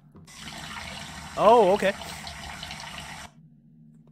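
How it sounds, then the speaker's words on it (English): Water runs steadily from a tap in the horror video game Deadly Night, a constant hiss and gush that stops abruptly near the end, while a person speaks briefly over it. "The water's already flowing, but it goes down the drain."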